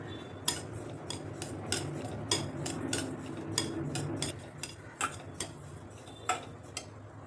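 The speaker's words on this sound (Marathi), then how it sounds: "मोहरीची डाळ भाजून घ्यायची," Split mustard seeds dry roasting in a pan for mango pickle masala, a rapid series of light clicks and taps of the spatula against the pan over a low hum, close and quiet.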